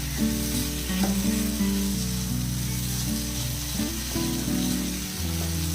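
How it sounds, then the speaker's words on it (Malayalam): Chicken fry sizzling steadily in a pan, a continuous close frying hiss with faint stirring, no voices. "കുറച്ച് കൂട്ടി വെച്ചിട്ട് നല്ലപോലെ ഫ്രൈ ആക്കി എടുക്കാം"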